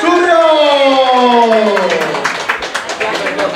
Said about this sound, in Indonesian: Ya, tepuk tangan semuanya untuk Bapak Roy Suryo.